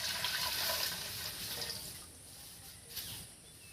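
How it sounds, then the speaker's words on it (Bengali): Water splashes and trickles into a bowl of chicken momo dough mixture, louder at first and then easing into a softer, steady wash. "এবার দেখুন এর মধ্যে আমি জল দিচ্ছি"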